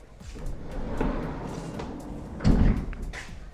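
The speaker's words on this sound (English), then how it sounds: "the door opens" The door of a 2024 Ford Transit Custom van is worked open with a muffled mechanical latch clunk and rattle, followed by a heavier thud as it releases.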